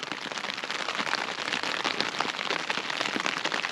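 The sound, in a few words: rain falling on a tent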